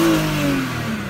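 A BMW E39 528i engine revs up, a loud, steady mid-range drone with rising harmonic bands, held close and alone for a little over a second.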